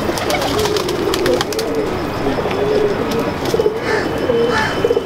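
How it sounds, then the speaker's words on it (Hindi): Teddy pigeons cooing in a loft in Gulberg, Lahore: steady, overlapping soft throaty coos repeating throughout, with faint chirps above and no talking. "ये अब टैडी कबूतर हैं।"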